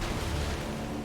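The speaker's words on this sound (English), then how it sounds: "That's a big explosion." Big explosion in Elden Ring, a dense sustained low roar filling the whole moment, loud and close with no voices.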